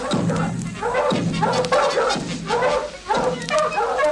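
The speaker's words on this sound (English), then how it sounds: "with the dogs yapping at Jack's heels" Cartoon dogs yapping in a Yogi Bear retelling of Jack and the Beanstalk, a run of loud, close, rhythmic barks chasing along in quick repeated bursts.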